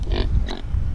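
A Kunekune sow gives two short, close grunts, moderately loud over low background rumble, with no talk.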